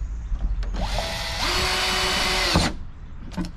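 A power drill snugs up the bolts on Oracle flush mount taillights, whirring steadily for about two seconds close by, with short clicks and handling noises before and after.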